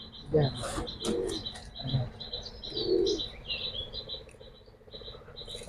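Cooing from a new female pigeon, soft repeated low calls that come and go at a moderate distance, with chirps from other birds and voices of people talking nearby.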